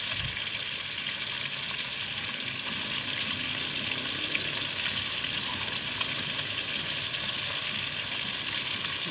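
Dried milkfish marinated in vinegar with pepper and garlic, dinaing na bangus, frying in a pan over a wood-ash cooking fire in a rural province, a dense continuous sizzle at an even level.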